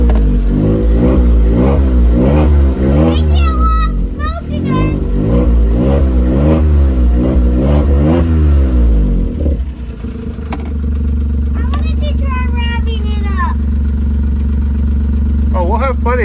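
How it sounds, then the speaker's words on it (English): A 2008 Smart ForTwo with a newly installed engine revs hard in repeated rising bursts, loud and close, then drops to a steady idle with a few short blips and occasional background voices. "Now rev it up, see if it revs up."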